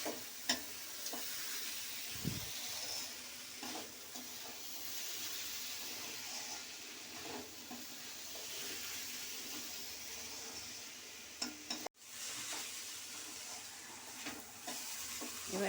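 Rice for Basanti Polao stirs and sizzles steadily in a hot pan, a continuous close hiss with soft scraping strokes of the spoon and one sharp clunk near the end.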